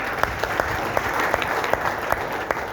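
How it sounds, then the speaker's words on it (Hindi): Audience clapping at a seminar, a dense wash of applause with sharper individual claps popping out at irregular intervals, fairly close and with no talking. "तो ताली बजाइए।"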